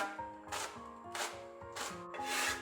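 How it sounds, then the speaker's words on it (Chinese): A knife chopping small chili peppers into thin rings on a wooden board gives three or four evenly spaced crisp strokes, each a short scraping cut, close and fairly quiet with no talk. "几个小米椒，将它切成细圈"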